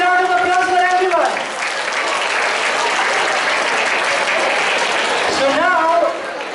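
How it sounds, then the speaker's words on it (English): Applause for teams at a school Teachers Day celebration, a broad sustained clapping from a room full of people, loud and even for about four seconds, with a voice speaking before and after it. "A huge round of applause for everyone."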